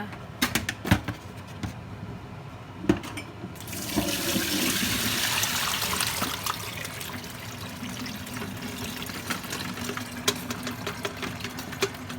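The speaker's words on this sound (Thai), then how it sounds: "จะเอามาล้างจ้า เอามาล้างนะคะ" Honey mushrooms being washed in water: a steady, rushing pour of running water with splashing and clattering handling noises.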